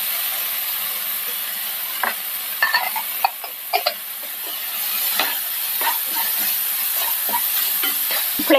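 Tomatoes being stirred into a white chickpea curry frying in a pan, with a steady close sizzle and intermittent scraping stirs of a spoon, no voices.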